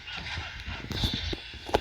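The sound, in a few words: horse hooves clip-clopping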